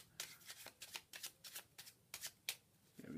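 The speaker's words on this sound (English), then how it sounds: "And we'll shuffle it in." Deck of playing cards being shuffled during a card trick, a quick series of crisp riffling bursts close to the microphone, roughly a dozen rapid flutters in an uneven rhythm.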